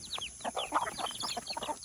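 Domestic chickens cluck and a rooster calls in a busy, overlapping stream of short calls, fairly close and steady, with no talking over them.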